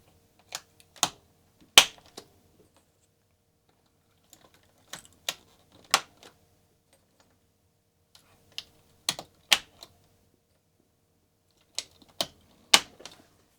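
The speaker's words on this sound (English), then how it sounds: "now I'm gonna assemble this keyboard" Keys and parts of a Commodore 64 keyboard being reassembled produce sparse, sharp plastic clicks and taps in small clusters, separated by quiet gaps, close and fairly faint.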